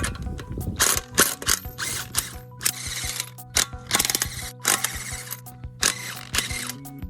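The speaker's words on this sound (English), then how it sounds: "you can use a 1/2 inch ratchet, but anything to get these off" Half-inch ratchet spinning 21 mm lug nuts off the front wheel of a Kia K900 during a brake job, rapid clicking pawl bursts repeating in quick runs with short pauses, close and clear.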